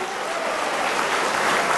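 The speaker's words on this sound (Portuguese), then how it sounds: "Dê um forte aplauso ao Messias pela sua vida" Short burst of loud applause from a church audience during a gospel program, dense clapping that swells slightly toward the end.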